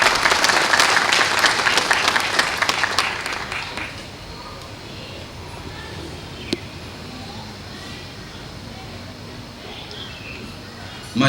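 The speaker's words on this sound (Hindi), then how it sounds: "जोरदार तालियों से उनका स्वागत कीजिए।" A hall audience gives loud, dense applause to welcome general secretary Prakash at a Birsa Munda 151st birth anniversary and Janjatiya Gaurav Divas celebration in Andaman. The clapping fades after about four seconds into a quiet, roomy hush with one brief knock.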